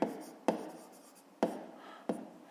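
Pen or pencil writing by hand on paper during a 5th-grade math exercise, four sharp scratchy strokes each trailing off softly, close and quiet with no talking.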